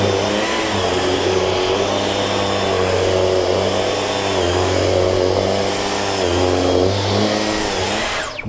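A Dyson V11 cordless vacuum cleaner sucks up cat hair from a floor, a loud continuous motor whine with shifting pitch under a steady airflow roar, cutting off at the very end.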